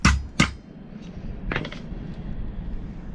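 A drilled piece being knocked out of a D16Y7 cylinder head: two sharp metallic hammer taps close together, then a lighter clink a moment later, all fairly faint in a quiet room.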